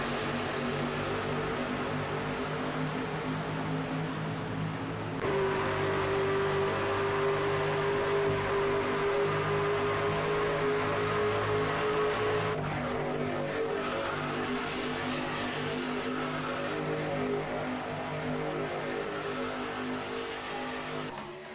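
Stock cars racing at Talladega in iRacing, a steady loud drone of packed engines roaring at full throttle for the whole stretch, with a sustained pitch shifting as cars pass.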